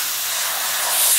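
Spray paint hisses steadily and close from a can or airbrush onto a Sturmgeschütz III Ausf B scale model, growing slightly louder toward the end.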